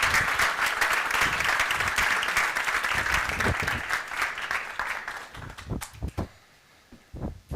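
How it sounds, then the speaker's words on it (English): Audience applause at a live sommelier contest in Cyprus, dense sustained clapping that thins out into a few scattered claps and then fades. "big applause"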